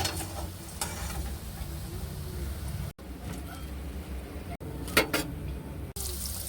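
Finger-shaped fish cutlets frying in hot oil, a continuous moderate sizzle with scattered stirring taps and brief pops, broken by a few sharp cuts in the sound.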